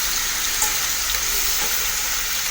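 Liver frying in hot oil in a pan as pieces are flipped, a loud, dense, continuous sizzle close up with no talking.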